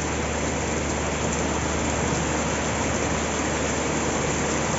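Steady heavy rain falls during a prolonged downpour that flooded a house. It makes a dense, even hiss that stays constant throughout, loud and close, with no voices.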